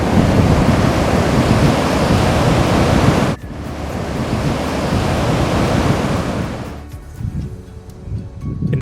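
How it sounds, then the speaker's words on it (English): Loud, broad roar of Pacific surf crashing at Point Reyes, dropping suddenly to a softer wash, then settling into gusty, rumbling wind noise. "you'll be constantly exposed to the sight and sounds of the ocean"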